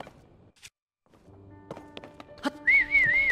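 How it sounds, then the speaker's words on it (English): A character in Zelda: Tears of the Kingdom whistles a short wavering tune near the end, after scattered game thunks, footsteps and clicks. The whistle is clear and close, with no talking over it. "Take a shot every time we accidentally whistle."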